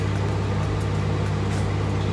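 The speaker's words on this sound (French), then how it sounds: "on va mettre ça au micro-ondes" A microwave oven runs with a steady, loud hum and a low electrical drone in a home kitchen, unbroken throughout.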